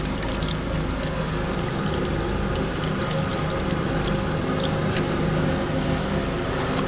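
A tap runs in a steady, dense gush while soap is rinsed off hands. The wash sounds close and continuous, and no one speaks.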